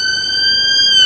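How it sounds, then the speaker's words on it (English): Emergency vehicle siren on an Edinburgh street, a loud, piercing steady tone with strong harmonics, close by and growing slightly louder. "what happened to the pleasant European sirens of the continental Europe? That one's ear-piercingly loud"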